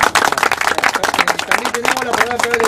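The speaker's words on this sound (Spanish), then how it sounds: "un aplauso para todos ustedes" Energetic clapping and applause from a crowd at a regional political campaign event, dense and continuous, with voices over the top.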